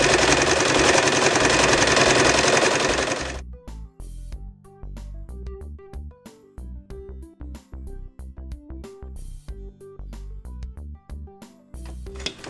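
Sewing machine stitching fabric for a heart-shaped oven mitt, a loud steady whirring run for a few seconds, then shorter stop-start bursts of stitching with brief pauses.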